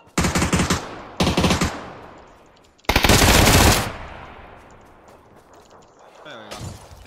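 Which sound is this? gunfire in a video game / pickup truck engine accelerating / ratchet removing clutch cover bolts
gunfire in a video game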